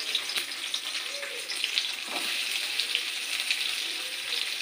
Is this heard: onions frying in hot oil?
yes